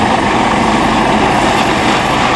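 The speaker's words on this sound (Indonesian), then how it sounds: "Ayo kita terbangkan helikopternya." A toy Basarnas rescue helicopter runs with a loud, constant whirring drone that stays close and even for the whole moment, with no talking.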